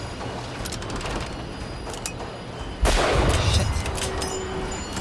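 Video game gunshots, a rapid series of sharp cracks early on followed by a heavier blast and rumble, with a brief spoken exclamation in between.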